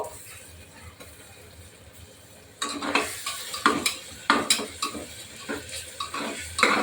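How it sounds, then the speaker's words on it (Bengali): Ginger-garlic paste hits hot oil for a mutton curry, breaking into a loud sizzle after a quiet start, with repeated scraping stirs of a spoon against the pot and no one speaking. "এখন প্রথমে আদা রসুন বাটাটা দিয়ে দেব।"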